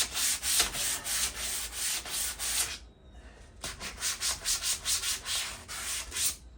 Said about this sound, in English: then we are done sanding.